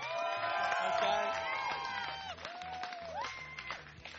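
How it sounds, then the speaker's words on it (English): Studio audience cheering and whooping for a BMX rider's appearance, a loud burst of high voices and shouts that fades after a couple of seconds, with scattered claps underneath. "Round of applause."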